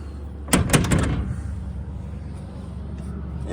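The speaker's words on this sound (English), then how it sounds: "Go ahead and shut the back doors." Back doors of a vehicle shut with a quick pair of solid thuds close by, then a low steady engine or ambient hum continues underneath.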